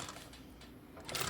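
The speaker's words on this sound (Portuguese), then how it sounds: "eu tô costurando, tô aplicando ele na peça em cima da mesma costura que eu já tinha feito antes" A sewing machine stitches fabric while appliquéing a piece over an existing seam of a cosmetic bag, giving a soft, low, continuous mechanical whir at close range.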